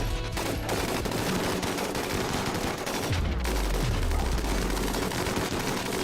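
Dense, continuous automatic gunfire from colonists shooting in RimWorld, rapid overlapping bursts filling the whole stretch at steady loudness, with a few low booms around the middle.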